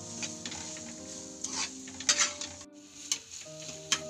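Maggi noodles stirred in a pan, with soft scraping and light clinks coming and going over a faint cooking hum, plus a few sharper ticks of utensil against metal.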